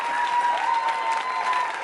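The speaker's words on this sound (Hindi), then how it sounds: "तालियां जोरों से बजाइए उन सभी के लिए आप।" Audience applause at a university Holi quiz show, a dense, steady wash of many hands clapping that holds evenly through the clip.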